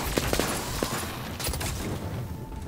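Weapon fire in the video game Superior, a rapid burst of gunshots at the start followed by dense, noisy in-game action and rumbling, loud and close.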